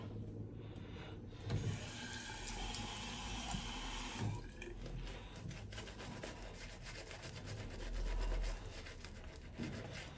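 Water runs steadily from a tap during wet shaving with a one-and-a-half-day beard, a close continuous splashing rush with occasional rubbing and knocking.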